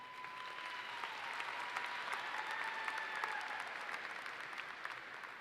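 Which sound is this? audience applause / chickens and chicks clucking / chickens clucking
audience applause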